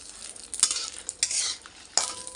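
About fifteen dry red chillies fry in a spoonful of oil in a kadai for a drumstick-leaf chutney, giving a soft, steady sizzle broken by a few sharp spoon scrapes against the pan.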